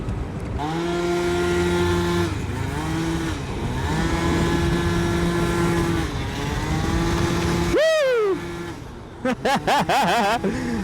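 A Yamaha BWS scooter fitted with a Stage 6 MK2 70cc cylinder kit revs loud and close, its two-stroke engine holding steady pitches, dropping, then sweeping up sharply in a high whine before a few quick blips at the end.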